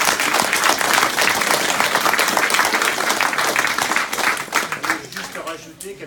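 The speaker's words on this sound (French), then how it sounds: "Pour faire des applaudissements un peu plus fournis" A crowd at an art gallery opening in Hardelot gives loud, close applause that thins to scattered claps near the end, with voices mixed in.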